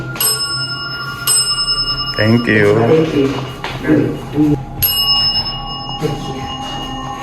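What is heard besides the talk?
bell ringing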